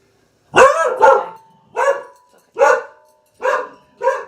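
A dog barks five or six times in a loud, close, evenly spaced series, with no talk over it.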